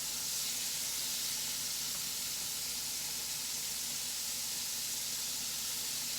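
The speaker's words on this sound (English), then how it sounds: "It don't take much to fry up liver." Liver fries in a pan with a steady, dense sizzle and hiss that holds at an even level from start to finish, with no talking over it.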